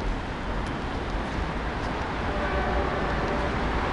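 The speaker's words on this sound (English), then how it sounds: "I hear a train." A train passes near a canal, heard as a steady low rumble with faint horn-like tones toward the end, continuous and moderately loud throughout.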